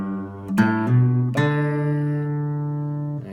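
Guitar notes ring out for a song intro lesson, a G on the sixth string joined by the open fourth string, plucked one after another and left to sustain and fade, clear and solo with no talking.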